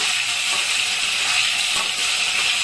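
Chopped tomatoes hit frying potatoes in a hot pan, setting off a loud, steady hiss and sizzle of steam that keeps going without a break.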